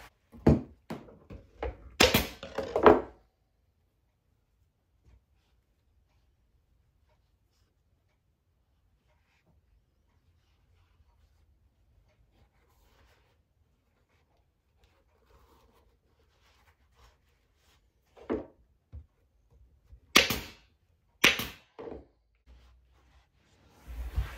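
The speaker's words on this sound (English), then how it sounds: "I'm going to staple, all that good stuff." Staple gun driving staples into fabric on a cornice valance, a few sharp clustered snaps at the start and another burst near the end, separated by long quiet.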